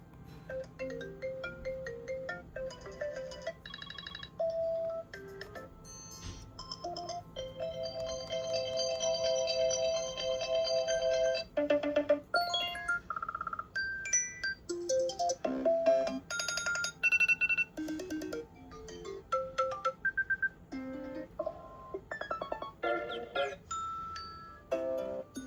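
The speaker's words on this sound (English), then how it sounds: "iOS 7 also introduced a bunch of new sounds, so let's go through those right now, starting off with the ringtones." A run of iOS 7 ringtones plays one after another on an iPad Air, a series of bright synthesized chimes, melodic tones and ringing patterns with short breaks between them, clear and alone with no talking.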